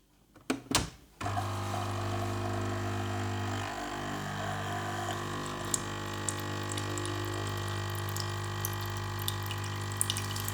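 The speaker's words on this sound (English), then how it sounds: "now for 3 times let it run through and clean itself and tip away the water" Tassimo Suny coffee machine running water through during descaling: a couple of clicks, then a steady pump hum with a low tone and trickling water that continues throughout, close and fairly quiet.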